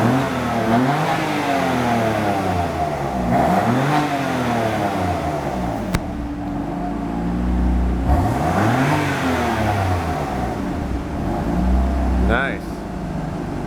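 BMW M4 engine revving hard through repeated rising and falling accelerations with downshift blips, loud and close, with people talking over it at times.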